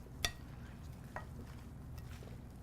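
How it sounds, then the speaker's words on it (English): Quinoa and black bean salad is tossed with dressing in a bowl, giving faint soft stirring and wet mixing sounds with a couple of light utensil clicks against the dish. "So we want to go ahead and mix that very well."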